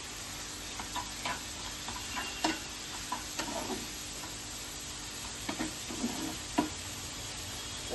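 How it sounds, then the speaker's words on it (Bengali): Boiled ivy gourd (kundru) being mashed in a pan with a dal masher over a faint sizzle, irregular soft taps and knocks of the masher against the pan, close by, no talk. "ডাল ঘাটার সাহায্যে আপনি এভাবে করে ম্যাশ করে দেবেন"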